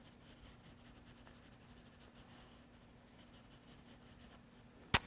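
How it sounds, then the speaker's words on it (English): A pencil shading on paper with the side of its lead, a soft, continuous scratchy rubbing at close range, ending with a single sharp tap. "we can make that one 3D by shading the same side with the side of our pencil"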